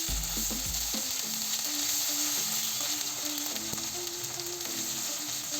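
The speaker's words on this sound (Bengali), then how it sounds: "এবার এগুলো নেড়ে দিব।" Chopped onion frying in oil with white and black cardamom, bay leaves, cloves, pepper and sugar, a steady close sizzle with a few stirring scrapes near the start, no talking.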